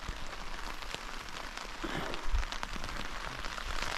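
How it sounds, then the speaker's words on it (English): Rain falls on a tent during a wild camp in the Cheviot hills of Scotland, a steady close patter of drops on fabric with occasional louder taps and no talking. "Well, it's raining again."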